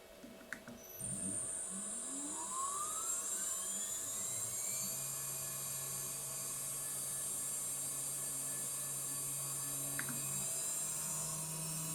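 A 1.5 kW CNC router spindle driven by a Huanyang VFD powers up, its high whine sweeping upward as it accelerates, then settling into a steady, loud, continuous electric tone with an electronic hum underneath; no speech.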